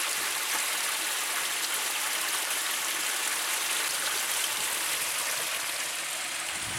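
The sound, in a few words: water flowing over small concrete dam waterfalls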